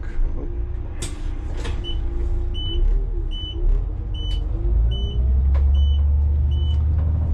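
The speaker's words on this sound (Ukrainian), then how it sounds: "Тут включаємо правий поворотник" A car's right turn signal ticks in a steady, evenly spaced series of short clicks over the low rumble of the engine and road noise inside the cabin, on a drive from a route to a tyre shop.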